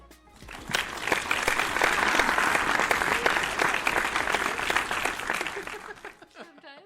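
A studio clap track plays a burst of loud crowd applause that swells, holds steady for several seconds, then cuts off abruptly, with a faint voice at the very end.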